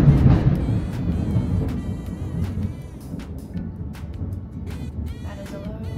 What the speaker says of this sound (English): That is a low thunderstorm.